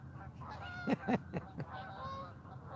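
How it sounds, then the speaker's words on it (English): A flock of geese flies over at dawn by open water, one white bird among them, giving a few loud honks close together near the middle, then fading to a softer murmur of calls against a steady outdoor background. "This flock coming through has got one white goose."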